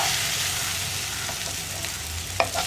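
Cut banana fries with raisins and cashew nuts in a pan, giving a steady, close, even sizzle with a couple of soft utensil taps near the end.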